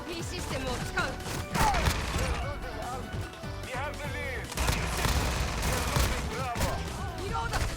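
Rapid-fire automatic shotgun, the AA-12, blasting away in a Call of Duty-style shooter match, dense bursts of shots layered with game effects and music throughout.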